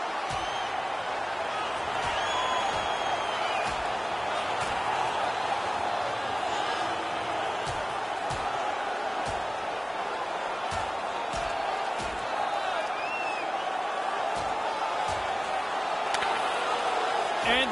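A large crowd in the video game NHL 21 roars continuously with cheers and whoops during a hockey fight, a dense sustained din with occasional sharp thumps and slams, steady and loud throughout.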